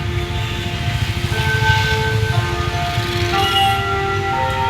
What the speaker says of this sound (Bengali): 7টা বাজছে বলে এখানে ঘন্টার আওয়াজ হচ্ছে।